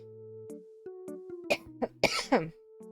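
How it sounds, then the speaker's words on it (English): A few short, harsh coughs in quick succession, close to the listener, set against soft steady electronic tones. "Pardon me, I still have a cough."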